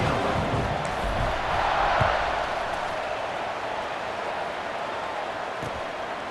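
Football stadium crowd at a Texas A&M versus Maryland game roars before kickoff, a steady broad wash of distant cheering and noise that swells slightly and then holds.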